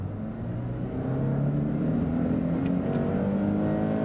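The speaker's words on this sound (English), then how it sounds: "when I accelerate from 40 kilometers to 80. And before that, I'll go to the sport mode" Range Rover Sport P400e plug-in hybrid accelerating hard in sport mode from about 40 to 80 km/h, heard from inside as a rising engine drone climbing steadily in pitch, no talk.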